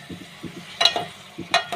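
Chopped tomatoes are stirred into bitter gourd cooking in a pan, giving a few soft scraping stirs and light sizzles, close and quiet with no talk.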